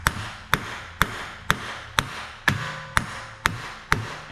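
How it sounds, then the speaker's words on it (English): A new CV axle being tapped into a VW/Audi transmission with a bolt on its head, nine evenly spaced sharp metallic hammer taps about half a second apart, loud and close, with no talk. "we're just gonna press in on it and give it a few taps."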